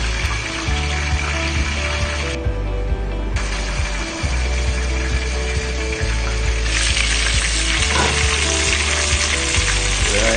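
Steady, loud sizzling of chicken frying in hot oil in a pan, close up and continuous, with faint clinks of utensils.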